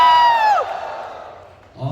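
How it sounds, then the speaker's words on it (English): A live expo audience in Bangladesh cheers on request: a loud, high sliding whoop opens, then settles into a fading crowd murmur before a short burst of voices returns at the end. "Can you have a cheer, guys?"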